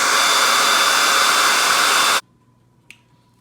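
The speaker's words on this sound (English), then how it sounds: "you want to blow dry it just to like, so it can be more flat and lay it down properly" A hair dryer blows on a wig, a loud steady rush of air that cuts off abruptly after about two seconds, leaving near silence with a small click.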